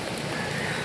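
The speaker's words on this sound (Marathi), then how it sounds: "पाऊस पडतोय." Rain pours steadily in a dense, loud, even hiss with no pauses, filling the whole moment without voices.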